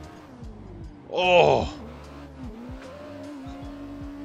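A competition drift car in Assetto Corsa shifts and flicks, its engine revving in rhythmic pulses while a loud tire squeal rises briefly near the start, with a driver talking over it.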